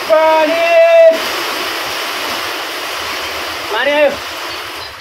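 Rain falls in a broad, steady hiss, with a voice heard clearly at the start and again near the end.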